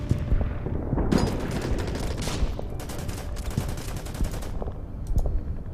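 Dense gunfire in the wargame Order of Battle, set during the US Marine assault on Guam, a rapid crackling fusillade of overlapping shots and bursts that stays loud and busy throughout.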